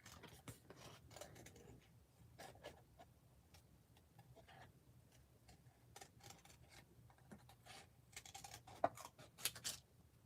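Scissors snip through paper cut-outs of painted watercolor leaves in a quiet, close series of small irregular clicks and cuts, with soft pauses between bursts.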